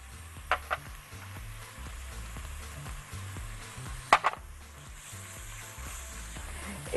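Spices sizzle in hot oil in a pan for chicken fatteh rice, a soft, continuous frying hiss with a few faint clinks of stirring.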